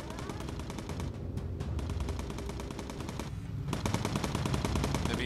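Rapid machine gun fire rattles continuously from a bomber's turret in a video game, in loud sustained bursts with a brief pause, over a droning engine background.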